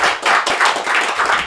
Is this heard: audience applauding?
yes